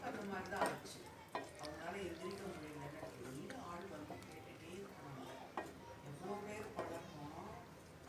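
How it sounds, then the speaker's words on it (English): Roasted paneer gravy is stirred in a pan, with soft scraping and faint sizzling under a voice talking throughout. "Let's mix it."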